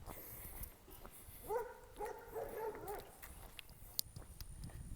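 A big tied-up dog on a rural trail road gives a short series of whining, howl-like barks, moderately distant and fairly faint over outdoor background noise.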